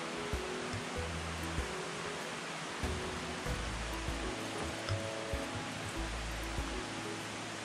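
Water of Jake's Creek in the Great Smoky Mountains flows as a steady, fairly faint broadband rush, with a few soft low bumps and handling noises near the recording.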